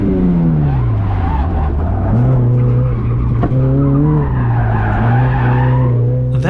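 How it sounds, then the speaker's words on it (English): A Mazda Miata's tires squeal loudly and continuously under locked brakes on a race track, the pitch wavering up and down as the wheels skid, close and over engine noise. "That's locking up the brakes, dropping a back tire off the outside curb"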